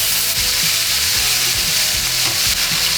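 Beef sears loudly in a really hot pan for a beef bourguignon, a dense, steady sizzle filling the whole clip with scattered low knocks and scrapes as the meat is moved.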